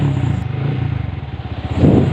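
A motorcycle engine runs steadily with a throbbing idle pulse, close by, rising slightly toward the end.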